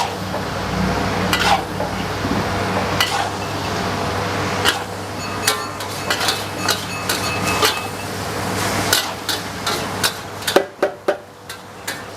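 Vegetables and spices stir-fried over a high flame, a continuous roaring hiss with repeated sharp metallic scrapes and clanks of a spatula on the wok, growing busier toward the end.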